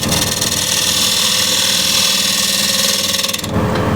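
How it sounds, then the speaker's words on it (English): A wood lathe spins a bowl blank at 1200 RPM while the rim is trued up, giving a loud, steady rushing whir with a low rumble beneath it. The sound shifts abruptly and thins out just before the end. "This is now 1200 RPM, and first thing is true up the rim here"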